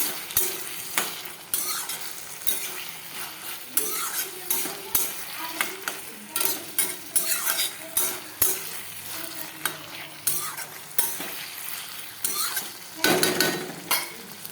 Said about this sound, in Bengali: যেহেতু মেটে চচ্চড়ি তো সেজন্য ছোটো করে আলু দিব। এটাকে ভালো করে কষাবো।